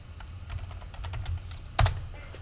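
Keys on a computer keyboard tapped in a short burst while a command is entered at a command prompt, a run of light quick clicks ending in one louder key strike, close and alone.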